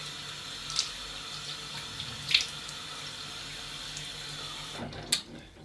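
Tap water runs steadily into a sink while someone wets their face, with a few soft splashes over the continuous flow, close and fairly clear.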